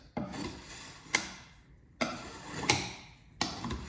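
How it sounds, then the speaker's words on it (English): Paint is scraped off a wooden paint stick while mixing paint and thinners for an HJ wagon build: four sharp scraping strokes land at steady intervals, each followed by a fading rasp, close and fairly quiet with no talk. "I'll try and scrape my paint stick"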